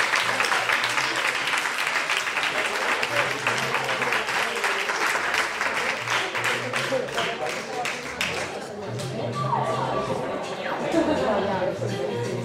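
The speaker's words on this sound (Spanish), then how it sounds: "Pido un fuerte aplauso, por favor" Loud applause from a crowd at a poetry slam event in Marcilla, dense continuous clapping for several seconds that thins toward the end, with murmured chatter and a voice underneath.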